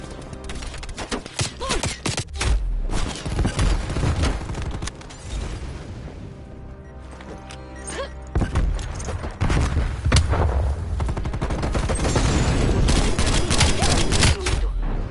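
Rapid bursts of video-game gunfire ring out in a busy contested-zone battle, loud overlapping volleys and booms with short lulls, growing denser toward the end.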